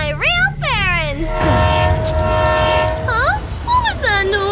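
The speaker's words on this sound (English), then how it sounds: "it looks like a scary killer train!" A train approaching in the Minecraft video game, with loud sweeping whistle-like tones and a sustained horn blast that rise and fall, up close and prominent, while a voice is heard at the start and end.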